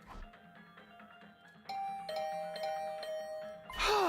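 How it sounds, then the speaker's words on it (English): A doorbell rings insistently in The Hundred Line: Last Defense Academy, clear repeated chime tones sounding alone, building louder and ending in a brighter burst. "I was brought back to the land of living by the unrelenting ringing of my doorbell."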